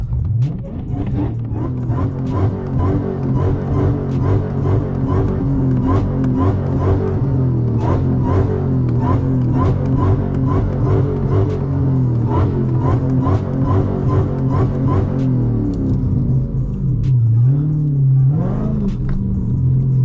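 Car engine revving hard and holding high rpm while the car spins in place, a loud steady roar with rhythmic surges, a dip near the end as the revs drop and climb again, with voices faintly underneath.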